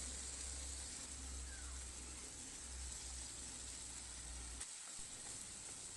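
Small chicken pieces browning in a pan, giving off a steady, fairly quiet sizzle and hiss that runs throughout, briefly dipping near the end as if stirred.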